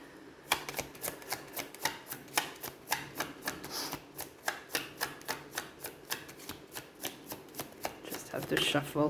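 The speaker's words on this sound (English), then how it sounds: "Have to shuffle on this side so my cat won't be triggered to chase after the cards." Tarot cards riffled and shuffled in a steady run of sharp, close flutters and taps, about two dozen quick bursts in a regular rhythm with a denser flurry at the end.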